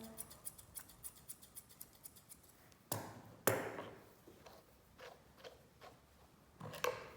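Grooming scissors trim the ear hair of a Nova Scotia Duck Tolling Retriever with a run of light, rapid snips, then a few louder, sharper cuts, all faint and close with no talk.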